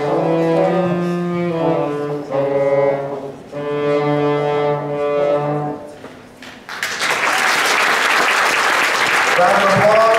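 A middle school band's sustained tonal chord fades out, then a burst of steady, dense audience applause takes over at a holiday school concert.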